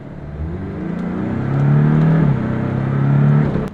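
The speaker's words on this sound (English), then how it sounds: "You can really hear that exhaust putting in some work." A 2018 Porsche 718 Boxster accelerates, its engine and exhaust rising in a loud, close droning growl that climbs in pitch, dips briefly at a shift, and then pulls again.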